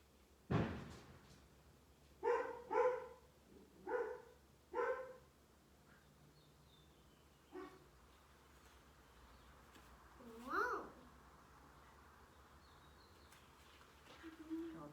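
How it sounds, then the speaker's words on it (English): A dog barks several times in a short cluster, fairly close, then falls quiet, with a sharp knock at the start and a later softer bark. "it kind of spooked our dogs if you guys heard them barking too"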